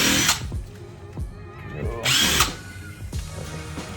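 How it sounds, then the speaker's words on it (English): Power drill spinning out brake rotor set screws on an 8th-generation Honda Civic, several short loud whirring bursts that rise and fall in pitch, separated by brief quiet gaps, close by. "Take off these set screws that are already loose."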